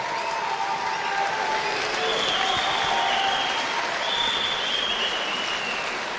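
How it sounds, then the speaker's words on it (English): At a professional boxing event, a large arena crowd applauds the two fighters after a ten-round bout, a dense, steady wash of clapping with a few shouts and whistles rising above it. "give a round of applause to these two fighters"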